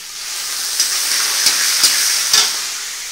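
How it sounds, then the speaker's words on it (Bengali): A fish head fries in hot oil with panch phoron and dried red chillies, a close steady sizzle and hiss broken by a few soft stirring scrapes. "এরপরে দিয়ে দেবো মাছের মাথাটা, তার মধ্যে একটু মাছের তেল"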